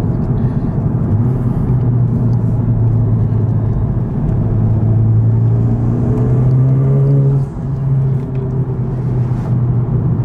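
A 2019 Honda Civic Type R with an Invidia Q300 exhaust makes a steady, loud, low drone from inside the cabin while cruising. Its pitch climbs gradually, dips briefly, then holds again, with no speech.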